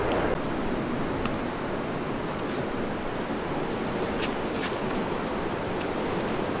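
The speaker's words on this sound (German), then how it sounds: "das Meer kommt näher, es wird lauter" Ocean surf near Florianópolis, Brazil washes in as a constant broad roar, steady and fairly loud, with faint wind buffeting the microphone and no talking.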